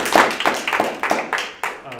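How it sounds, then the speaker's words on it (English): A handful of people clap in a loose, sparse pattern, with about six distinct bursts spread over two seconds, for panelists at a discussion panel on truth and facts. "Can we get a round of applause, please, for our panelists?"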